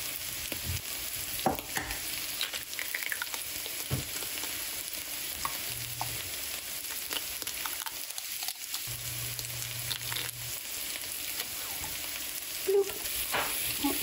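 Meat frying in a pan gives a steady, moderate sizzle across the whole stretch, with occasional clinks and taps from eggs being cracked into a bowl and stirred. No one speaks.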